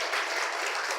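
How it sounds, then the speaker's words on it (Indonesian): A dense, continuous round of audience clapping from a congregation at a religious lecture, even and sustained throughout, heard alone without voices. "Tepuk tangan yang meriah."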